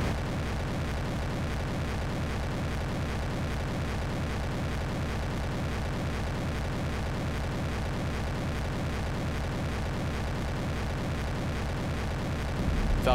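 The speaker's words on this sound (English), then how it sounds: "And liftoff. The Falcon takes flight." A Falcon 9 rocket lifts off in a Blender animation with a deep, continuous broadband roar that holds steady and loud from start to finish.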